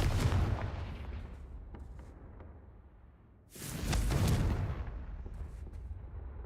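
Confringo fire spells blast in Hogwarts Legacy, two loud booming explosive bursts with rumbling tails, the second one after a brief lull, with no talk.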